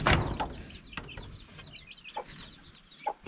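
Hens on a farm clucking, with a loud close burst at the start followed by scattered short clucks and soft chatter from several birds.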